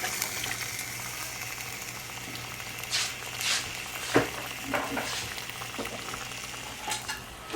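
Ingredients for pepper pot are tossed in a frying pan, giving a steady sizzle with repeated scraping and clattering bursts as the food is turned over.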